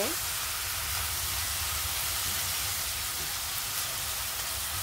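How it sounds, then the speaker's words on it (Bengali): Salt, turmeric and dried chilli powder sauté in a pan for rohu fish curry with papaya, a dense, even hiss like steady rain, close and continuous. "আমি সমস্ত মশলাগুলো ভালোভাবে কষে নিব"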